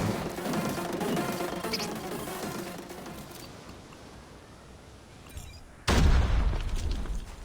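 In Call of Duty Mobile, an underbarrel launcher mounted on an M4 fires once with a sudden heavy boom near the end, after a stretch of low rumbling game ambience.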